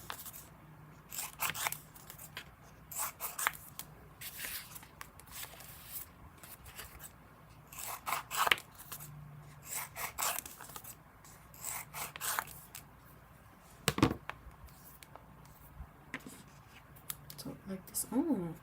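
Scissors snip and rub through stickers in short bursts of detail cutting, close up and fairly quiet, with a person talking softly in between.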